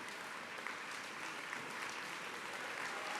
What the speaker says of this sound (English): we're going to be clapping a lot when I go through the list here